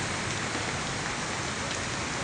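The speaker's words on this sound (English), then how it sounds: "Blowing, just blowing rain." Wind-blown rain pours steadily during a tornado-warned storm in Robertson County, Tennessee, a dense, loud, unbroken hiss that stays constant throughout with no voices.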